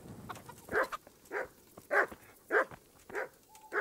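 A dog barks repeatedly in the video game Kingdom Come: Deliverance, about six sharp, evenly spaced barks at moderate volume, with no voices.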